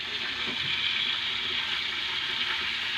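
Black cumin seeds sizzle in hot oil, tempering for a spicy Bengali fish curry. A steady, loud, hissing fizz runs unbroken throughout, with no voices.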